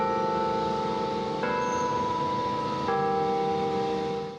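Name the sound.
church chimes from the Basilica of St. Lawrence, hourly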